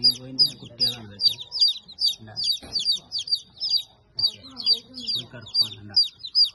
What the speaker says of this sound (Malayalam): കരിങ്കോഴിന്റെ കുട്ടികളാണ് ഇതൊക്കെ.